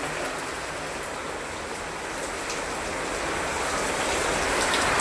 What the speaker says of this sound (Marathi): तर बघू शकता बाहेर किती पाऊस आहे, किती छान वाटते.